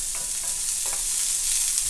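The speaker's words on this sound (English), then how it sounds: "Stir them around real quick." Ingredients being stirred in hot vegetable oil fry with a steady, close hiss, broken by a few soft scraping strokes of the spoon, with no voices.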